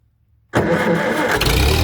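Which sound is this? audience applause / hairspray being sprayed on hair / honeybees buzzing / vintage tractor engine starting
vintage tractor engine starting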